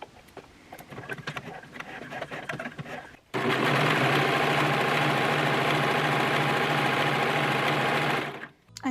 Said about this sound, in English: set up my gathering foot on my sewing machine